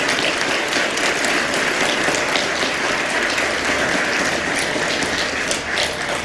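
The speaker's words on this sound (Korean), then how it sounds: "감사의 뜨거운 박수를 다시 한번 부탁드리겠습니다." A church congregation gives loud, sustained applause, dense clapping from many hands that fills the room evenly from start to finish with no voices on top.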